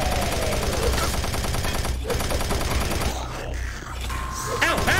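Rapid gunfire from the Doom 3 shooter, dense and continuous across the whole stretch with a brief dip midway, layered with clanking mechanical game noise.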